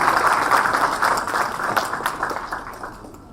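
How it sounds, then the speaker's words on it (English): At a platform launch event, an audience claps for the chief guest in a burst of applause that begins full and lively, then thins and fades toward the end. "Can we please have a round of applause for Sri Sharat Kaviraj?"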